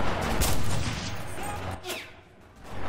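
Gunfire in the World War II shooter Enlisted comes as a dense burst of shots at first, then scattered reports trail off over a rumbling battlefield background.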